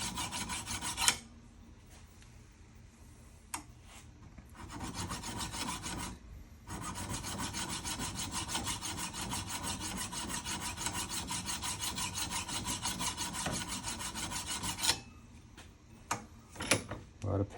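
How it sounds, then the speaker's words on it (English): A metal file rasps steadily across a boxcar-style jaw harp in a long continuous stretch of rhythmic scraping, framed by brief pauses and a few sharp clicks and knocks near the end. "I can make a nice smooth flat surface with the file"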